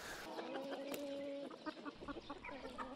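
A flock of gamecocks on a farm clucking and calling over a busy background, with one drawn-out squawk and scattered short clucks, moderately close.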